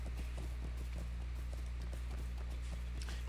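Rapid, rhythmic hoofbeats of a galloping horse in the video game The Lord of the Rings Online, steady and continuous over a constant low rumble, with no voices.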